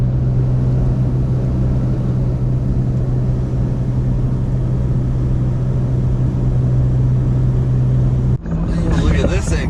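A car drives east on Interstate 80 out of Reno, its steady loud road rumble and low engine drone filling the cabin without letup, with a brief thump near the end.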